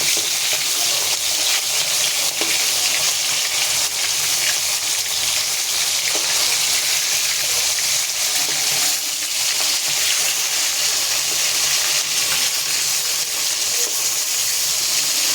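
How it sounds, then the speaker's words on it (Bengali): Fish frying in a pan of oil, a loud, continuous close-up sizzle with steady hiss and spattering that holds without pause throughout. "মাছটা দিয়ে দিলাম, মাছটা ভাজা হোক, মাছটা উল্টিয়ে দেবো"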